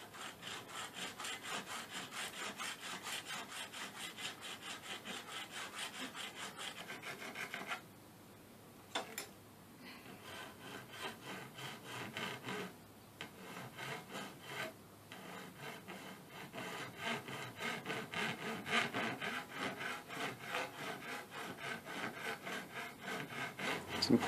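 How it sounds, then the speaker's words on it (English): A bastard file rasping a bevel into the edge of a guitar pickguard for a Flying V with a Les Trem II: long, steady back-and-forth strokes, close and continuous, with a couple of brief pauses. "I'm going to go at it with a rat tail file, and this one's, I think it's just called a bastard file"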